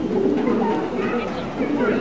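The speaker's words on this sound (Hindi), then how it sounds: "ये नया कबूतर है" A newly acquired pigeon at a loft in Khanpur, Rahim Yar Khan, gives soft, throaty cooing close by, repeated low burbles over a murmur of nearby voices.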